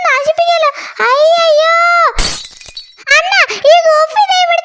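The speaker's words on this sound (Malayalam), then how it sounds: "എല്ലാ പൊട്ടിച്ച് തല്ലി പൊട്ടിച്ച്" A sudden crash of something smashing and shattering bursts out once in a house, a brief loud broadband burst between stretches of a high-pitched animated voice speaking.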